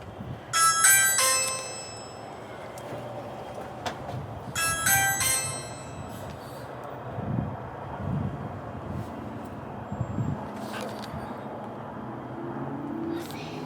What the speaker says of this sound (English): Push the doorbell, baby. Push the doorbell.